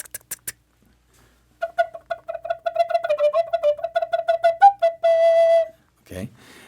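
A breathy Native American-style flute plays a rapid run of exaggerated, sharply tongued staccato notes, pulsing in quick succession before ending on a held tone and a short breath.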